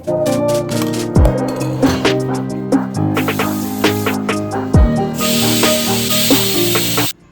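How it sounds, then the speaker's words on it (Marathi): A pressure cooker lets off steam in loud hissing rushes that swell partway through and cut off abruptly, over steady tonal background sound. "एकीकडे आपला कुकर सुद्धा झालाय त्याची वाफ जाते"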